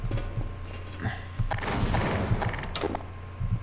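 Gunfire in Half-Life: Source, several sharp shots and bursts over a steady low mechanical hum, with the loudest cluster in the middle.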